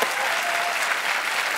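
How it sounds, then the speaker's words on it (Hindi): Studio audience applause on a Hindi comedy talk show, a short burst of even, dense clapping from the crowd welcoming a guest actress. "सोनाक्षी का जोरदार तालियों से स्वागत एक बार।"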